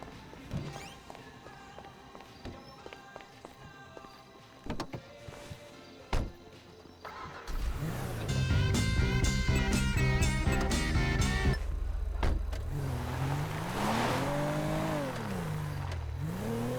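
A car drives in GTA 5, the engine rising from a low rumble to a loud, sustained revving roar partway through, with footsteps and taps early on and a shifting engine pitch as it speeds along.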